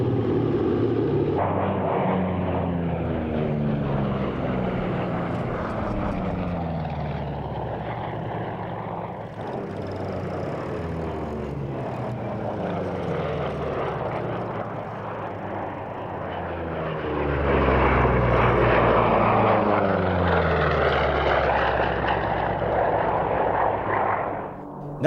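The vintage B-17 bomber Sally B flies a display at the Duxford airshow trailing its smoke system, its piston engines producing a loud sustained drone that swells and sweeps in pitch as it passes overhead.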